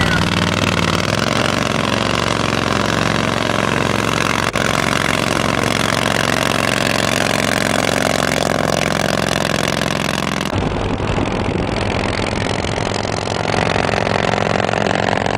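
A drag-racing motorcycle engine runs loud and steady close by, a dense continuous roar whose tone shifts partway through.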